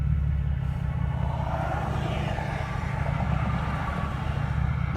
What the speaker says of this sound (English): the RPMs are very unsteady, like if there was a boost leak